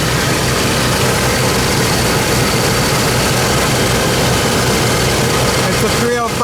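Chevy van 305 V8 with a possible stuck lifter, idling close by with a loud, steady rumble that holds evenly from start to finish.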